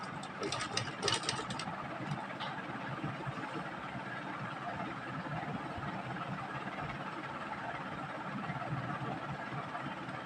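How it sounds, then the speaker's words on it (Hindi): A sewing machine stitching lace onto the edge of a dupatta, a steady mechanical whirring hum that runs continuously at close range, without speech. "बिल्कुल कॉर्नर से सिलाई लगाना स्टार्ट करना है।"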